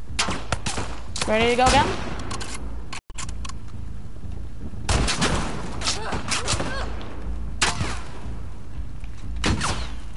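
Sniper rifle shots in The Last of Us Part 2 in a flooded Seattle, several sharp loud cracks spaced apart across the scene with echoing tails, a person speaking briefly between shots.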